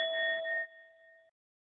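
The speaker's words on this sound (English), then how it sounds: "at the sound of this bell" A meditation bell rings once, a single bright struck tone with a clear metallic onset that holds steady and rings out alone for just over a second before stopping, with no other sound around it.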